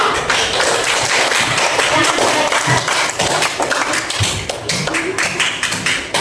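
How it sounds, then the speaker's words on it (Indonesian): Children in a religious education classroom clap their hands, making a loud, dense, continuous patter of many small hands at close range, with scattered taps and thumps throughout. "ya tepuk tangan"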